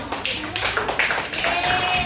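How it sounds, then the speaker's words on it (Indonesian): Classroom students clapping their hands together, a loud, close, continuous patter of many overlapping claps with faint voices mixed in. "Kasih tepuk tangan dulu dong"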